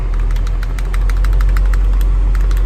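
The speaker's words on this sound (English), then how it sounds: "let me bump up the idle speed." A diesel engine runs at a raised idle of about 900 RPM, set with a NexLink NL102P scan tool, producing a loud, steady, close drone with a fast rhythmic clatter throughout.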